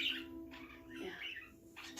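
Pet birds chirp softly indoors, a few brief tweets and squawks scattered over a quiet room, faint and near.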